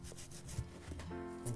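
Cloth rubbing wax polish into the edge of a leather shoe sole, giving short, close, soft scrubbing strokes with a faint squeak.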